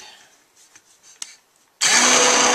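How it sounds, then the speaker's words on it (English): An immersion blender starts up abruptly in a soap mixture, a loud steady whirring roar that fills the last stretch after a quiet lead-in with faint handling noises. "And then I get my trusty immersion blender and we start to blend."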